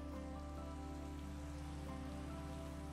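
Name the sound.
rain falling in a video game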